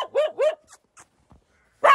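Small dogs barking outdoors on a mountain trek, two quick yaps close together, then a pause with faint sounds and one more sharp bark, loud and near.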